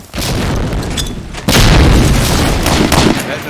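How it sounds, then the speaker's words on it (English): Heavy booming blasts from grenades in the multiplayer shooter Medal of Honor: Allied Assault, one loud burst near the start and a bigger, denser blast that carries on rumbling through the rest, with no voices. "Yeah, the nades from Konami are hitting"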